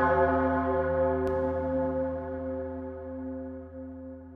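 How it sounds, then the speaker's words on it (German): A deep church bell, tuned an octave lower for a film score, rings once and hums on in a long, slowly fading resonance, loud and alone. "eine Glocke wäre noch schön als Abschlag"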